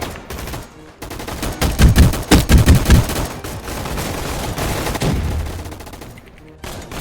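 A gun turret firing in a video game, with rapid bursts of gunshots building into a dense fusillade in the middle before easing off, loud and close.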